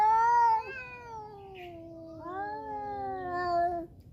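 A cat meows in two long, drawn-out calls, the first rising briefly and the second sliding slowly downward. Both are close and loud, with no other voices.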